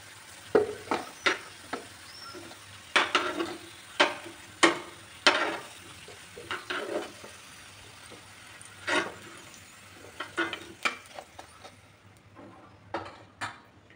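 Potatoes frying in a pan for a sea fish curry, with a soft sizzle broken by irregular clicks and scrapes of a spatula stirring and lifting them, close and fairly quiet.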